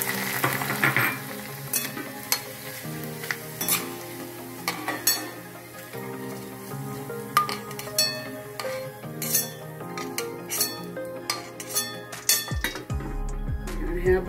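Sabudana poha and potato pieces frying in hot oil, a steady sizzle with repeated metallic clinks and scraping from a utensil, with steady tonal music running underneath.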